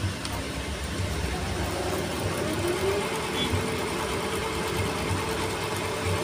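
A sewing machine fitted with a zigzagger attachment stitches steadily, its motor humming with a continuous mechanical whir that holds at an even, moderate level throughout.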